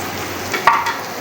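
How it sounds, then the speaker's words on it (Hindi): Tomato paste going into a pan of sizzling onion, garlic and ginger for chicken karahi, a short close burst of frying hiss with a soft stir. "इस टाइम पे आके हम इसके अंदर ये टमाटर का पेस्ट डालेंगे।"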